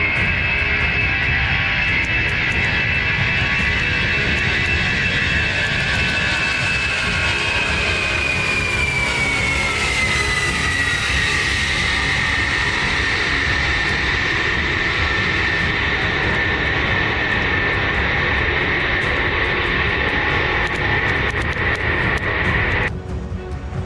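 Lockheed C-5M Super Galaxy military transport aircraft with upgraded engines roars loud and steady, its whining jet tone sliding lower midway as the plane passes, then cutting off abruptly near the end.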